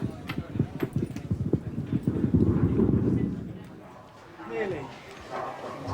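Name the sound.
horses' hooves clip-clopping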